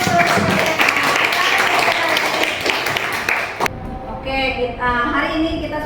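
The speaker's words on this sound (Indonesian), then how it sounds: "Tepuk tangan" Students in a high school classroom break into dense, lively applause after a group presentation; the clapping runs for several seconds, then stops abruptly as a voice begins speaking.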